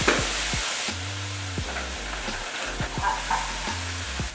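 Ground beef frying in a pan with taco seasoning, a steady loud sizzle with repeated stirring scrapes and knocks of a utensil against the pan, no talking.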